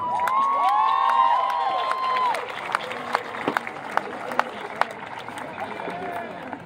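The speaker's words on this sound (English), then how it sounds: "I want you to once again thank your families by giving them a round of applause." Graduation crowd at a high school ceremony applauding and cheering, with whoops and shouts over dense clapping that fades into scattered sharp claps and murmuring voices.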